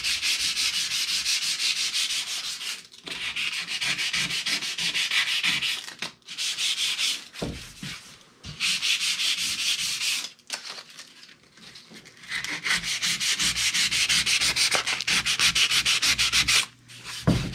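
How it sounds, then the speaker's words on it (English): Steady hand sanding with 220-grit sandpaper over wooden door joints, long rasping back-and-forth strokes in bursts with short pauses, close and fairly loud, no voices. "I'm going to take 220 sandpaper and just start sanding over these joints"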